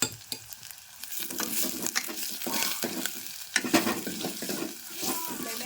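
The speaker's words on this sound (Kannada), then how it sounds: "ಉಳ್ಳಾಗಡ್ಡಿ ಜಾಸ್ತಿ ಫ್ರೈ ಮಾಡಲ್ರಿ" Onions frying in a pan, with a steady crackling sizzle broken by irregular scraping and stirring clatter, close and fairly loud, and no speech.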